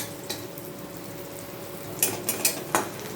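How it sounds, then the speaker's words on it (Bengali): Bitter gourd frying in a pan gives a steady, fairly quiet sizzle, with a few sharper scraping or stirring clicks near the end and no talking. "তাহলে উচ্ছেটা ভেজেই নিই"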